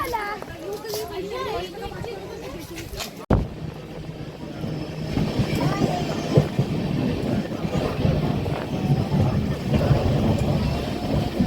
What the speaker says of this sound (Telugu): ట్రైన్లో వెళ్తూ ఇట్లా